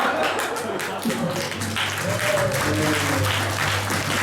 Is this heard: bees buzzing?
no